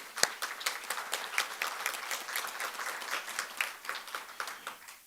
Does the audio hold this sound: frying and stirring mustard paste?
no